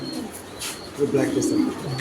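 A black racer pigeon coos softly and close by in short throaty bursts, with faint background noise around it.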